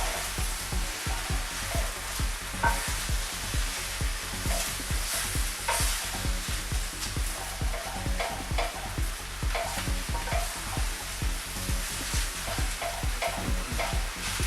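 Vegetables and pepper stir-frying in a pan, a steady loud sizzle with rapid, continuous scraping and tossing strokes throughout.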